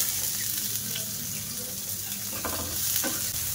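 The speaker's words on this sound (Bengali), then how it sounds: "এবার আমি ওর মধ্যে কুচানো পেঁয়াজ আর কাঁচা লঙ্কা দিয়ে দেবো।" Chopped onion and green chili fry in oil in a pan, a constant close sizzle with light stirring scrapes near the end and no one speaking.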